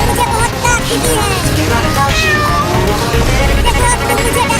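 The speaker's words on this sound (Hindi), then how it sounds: "अरे ये बिल्ली तो टेम्पो से भी तेज दौड़ रही है" A cartoon cat meows and yowls repeatedly while giving chase in a Hindi comedy cartoon, loud and close, the cries layered over busy background noise and music.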